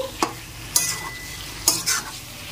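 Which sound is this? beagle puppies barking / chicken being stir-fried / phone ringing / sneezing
chicken being stir-fried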